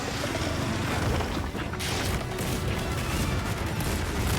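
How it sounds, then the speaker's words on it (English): Dense, continuous barrage of explosions in Monster Hunter Wilds, loud crashing booms overlapping one another for several seconds with a brief dip midway before the blasts resume. "Oh my god, that's a lot of explosions."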